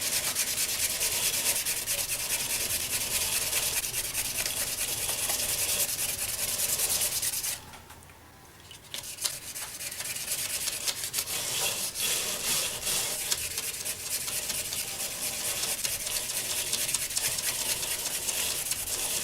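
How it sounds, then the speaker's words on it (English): Wet sanding of a spalted mango wood vase with 2000 grit sandpaper, a steady close rubbing hiss that runs continuously, drops away briefly near the middle, then resumes. "I'm going to sand it with, what do I got here? I believe it's 2000"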